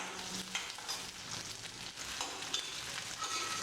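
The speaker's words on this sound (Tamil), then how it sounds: "இப்போ வந்து இந்த வெங்காயம் வெள்ளைப்பூடி போட்டுக்குவோம் நல்லா ஒரு ரெண்டு நிமிஷம் மூணு நிமிஷம் நல்லா வதக்கி விட்டுருங்க" Onions and garlic sauté in hot oil in a pan for a minced mutton curry, with a soft continuous sizzle and occasional stirring scrapes, fairly quiet and steady.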